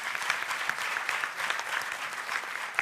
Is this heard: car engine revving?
no